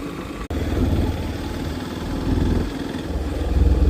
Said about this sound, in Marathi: आपण बाईक राईड करत करत आतल्या रस्त्यावर फिरतो